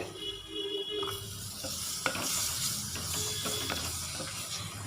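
Chopped tomato stirred with ground spices in a hot pan for Kerala-style rasam, giving a continuous close sizzle and hiss with occasional spoon scrapes, steady throughout and without any voices.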